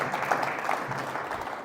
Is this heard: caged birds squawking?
no